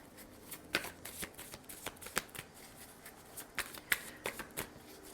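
Tarot cards are shuffled by hand close up, a run of soft papery riffles and slaps in uneven bursts over a quiet background, without speech.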